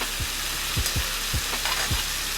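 Shrimp sizzle in butter in a skillet, a steady bright frying hiss punctuated by several soft knocks and scrapes as the pieces are moved around.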